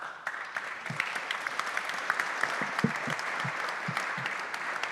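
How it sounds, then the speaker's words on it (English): Audience applause for four panelists at an energy event, a fairly quiet, even patter of many hands with a few sharper individual claps standing out. "A round of applause for our panelists"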